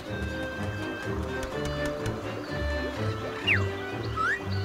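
Horse hooves clip-clop in a quick, light rhythm in the video game Yooka-Laylee, layered over game music with a short whinny-like sound near the end.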